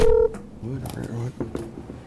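A conference speakerphone sounds a short, loud dialing tone at the start, followed by a few quieter beeps, while people talk in a meeting room.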